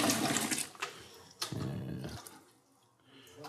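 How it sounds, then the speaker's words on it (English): Water is poured into the mash for a home-brewed pale ale, splashing and gushing in uneven surges that rise and fade, fairly close. "I'm going to put another 5 liters of water, and then we'll put some more malt in"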